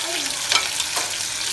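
Onion, curry leaves and green chillies sauté in a pan for karuvadu kulambu, with a loud close sizzle and a couple of quick stirring scrapes.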